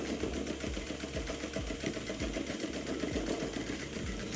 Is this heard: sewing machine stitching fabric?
yes